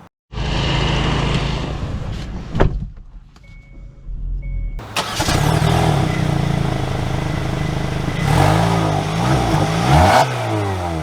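A 2024 Hyundai Tucson compact SUV cranks and starts, idles briefly, then its engine hums steadily as it pulls away and accelerates, with road and cabin noise building, no talking.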